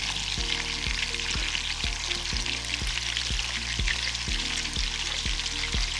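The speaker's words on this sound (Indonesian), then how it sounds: "Bila minyak dah cukup panas, boleh goreng meatball." Meatballs fry in hot oil for Swedish meatballs, a dense steady sizzle and crackle filling the whole clip, with a repeating low clunking pattern of thumps underneath, close and continuous with no talking.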